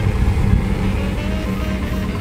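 A Kawasaki Z900 SE's low, steady engine rumble drones on without a break, holding at a fairly even level throughout.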